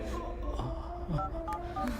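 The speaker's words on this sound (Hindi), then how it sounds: "मैं अभी पुलिस को फोन करती हूँ।" A telephone is dialed to call the police, with a quick series of clear keypad tones pressed one after another at a close, moderate level over faint background hum.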